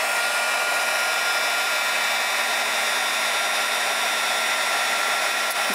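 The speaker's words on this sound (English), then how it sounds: "Let's see if we can emboss this up and you'll see what I mean." A heat embossing tool blows a steady, loud, hair-dryer-like whoosh while it melts embossing powder, running without a break for several seconds with no one speaking.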